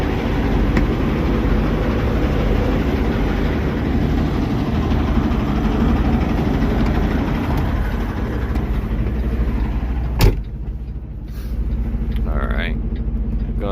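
A semi truck engine idles in a loud, steady low rumble, then a sharp click near the end cuts it off, leaving faint ambient noise behind.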